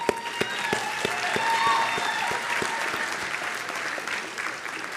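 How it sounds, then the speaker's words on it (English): Graduation ceremony crowd applauding faculty and staff, a broad continuous patter of many hands in a large venue with a few whistles and cheers rising over it, fairly steady throughout. "I just want to applaud the faculty and staff who have worked tirelessly to prepare the next generation of leaders."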